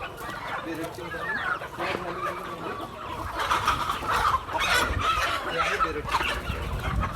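Berat breed hen clucking and squawking while being caught on a farm, repeated agitated calls close by over a steady background of other fowl.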